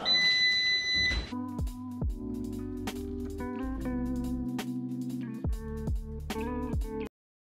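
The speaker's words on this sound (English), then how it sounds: "That's the sound the air fryer makes when it's done" An air fryer beeps its done signal: a high steady tone, then a string of electronic beeps stepping through a short melody, loud and close, no talking.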